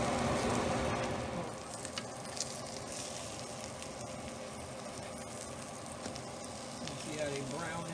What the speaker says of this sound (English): just put them in the skillet. Let them cook on both sides till they brown